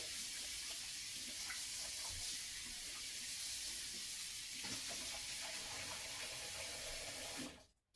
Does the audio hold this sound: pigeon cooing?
no